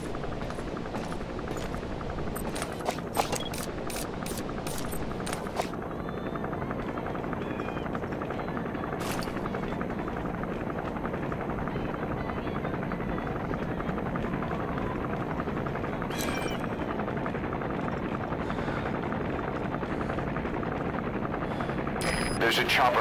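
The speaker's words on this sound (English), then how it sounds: "That's an enemy gunship. The chopper will be arriving any minute." In Metal Gear Solid V, an enemy helicopter gunship arrives and lands, its rotor roar a loud, steady wash filling the whole stretch, with sharp game clicks and bursts scattered over it and speech mixed in.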